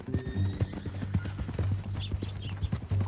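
Horse hooves clip-clop in a steady, fairly close rhythm while riding in Red Dead Redemption 2, with a brief whinny and some faint ambient sound beneath the footfalls.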